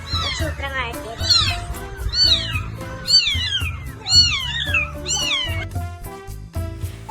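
Ten young kittens meow repeatedly in high, rising cries, overlapping one another at close range over a low background hum.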